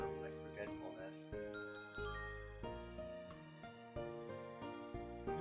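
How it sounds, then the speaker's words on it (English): Text message notification bells in a visual novel game, a series of bright tinkling chimes rising and falling over a soft musical background. "I suddenly hear the telltale bells of the text message."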